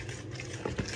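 Soft, wet patter of a spoon stirring thick chocolate chip banana muffin batter in a bowl, close and quiet, with a couple of small clicks near the end.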